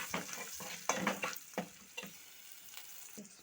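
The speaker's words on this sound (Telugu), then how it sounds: "ఆనియన్స్ కరివేపాకు కొద్దిగా పసుపు వేసి ఫ్రై చేస్తున్నానండి" Onions, curry leaves and turmeric fry in a pan while a spoon stirs them in several scraping strokes over a soft, continuous sizzle, close and fairly quiet.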